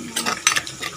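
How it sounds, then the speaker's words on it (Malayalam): Coriander seeds and dried chili are dry-roasted and stirred in a pan, brief close rattling scrapes of spice against metal, a few quick strokes within a second. "ഞാൻ ഈ മല്ലി മുളകും ഒന്ന് വറുത്തിട്ട്"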